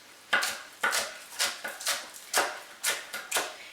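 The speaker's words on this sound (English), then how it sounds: "I'm going to cut off the green onion part and then do a rough chop of the rest" A knife rough-chopping green onion on a cutting board, about nine sharp, evenly spaced thunks close up in a steady rhythm with no talking.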